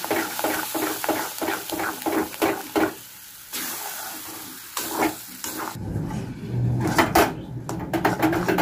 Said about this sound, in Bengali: ধোকাটা আমি এখন এই বসাবার জন্য কড়াইতে নেড়ে নেব।